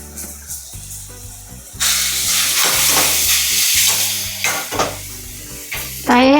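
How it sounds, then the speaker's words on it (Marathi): Spices and palak paneer masala cook in a pan with a steady frying sizzle that jumps louder midway, broken by repeated stirring scrapes and utensil clinks; no one speaks. "हे आपण एकदम मस्त एकजीव होईपर्यंत असं शिजवून घ्यायचं आहे आपल्याला"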